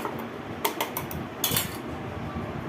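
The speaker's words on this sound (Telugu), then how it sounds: "ఇప్పుడు దీంట్లో 2 ఐస్ ట్యూబ్స్ వేస్తున్నాను" Ice cubes drop into sapota juice in a mixer jar, giving a few sharp clinks close together, with quieter rattles after, over a low steady background hum.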